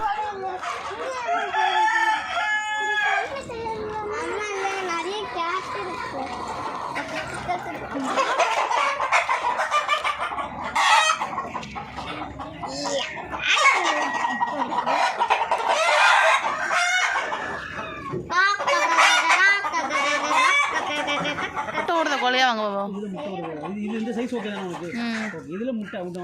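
Country chickens clucking and a rooster crowing in sheds at a poultry farm in Oman, a busy continuous flock chorus with someone talking over it throughout.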